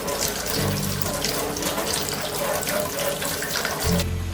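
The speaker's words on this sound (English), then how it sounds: "Wash the okra clean under a running tap." Okra pods are rinsed under a running kitchen tap, giving a steady splashing stream of water that runs throughout and swells briefly toward the end.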